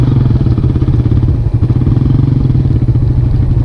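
A carbureted Suzuki Raider 150 motorcycle with a hot engine and a low idle fault runs at a steady idle, a loud close-up chugging putter that continues unbroken with no voices.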